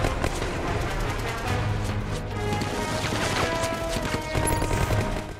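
Dense gunfire and crashing blasts in a World War II battle as Easy Company assaults German howitzer positions, with continuous overlapping volleys and impacts that are loud and sustained.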